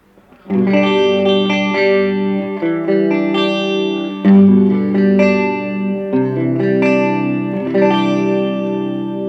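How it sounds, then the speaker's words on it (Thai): Clean electric guitar through an amp with the EQ turned fully toward the bass side, giving a warm, deep tone; sustained chords and picked notes ring out steadily at close range with no talking. "อ่ะเดี๋ยวเราลองบิดไปทางซ้ายสุดนะครับ คือให้มันทุ้มนะครับ"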